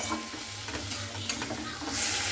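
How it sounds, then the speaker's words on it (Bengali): Drumstick greens and chickpeas tossed in a wok, with quick scraping and rustling stirs over a steady sizzle, close up and continuous, with the sizzle swelling toward the end. "ছোলাটা দেখুন খুব ভালো করে কিন্তু এইভাবে আমি নাড়াচাড়া করছি শাকের সঙ্গে।"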